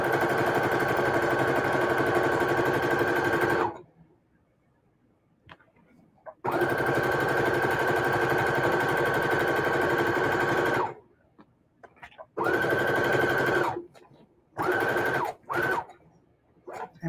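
A sewing machine stitches a pillowcase in long steady runs of motor whir, stopping for pauses before several shorter bursts start up again. It sounds close and loud, and no voice comes in over it.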